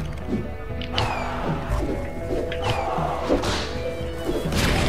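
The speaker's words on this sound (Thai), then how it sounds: "อ้าวโดนระเบิดตาย" Explosions in the cowboy shooter video game Secret Ponchos, heard as repeated thuds and crashes under busy game music and effects, with excited talk over them.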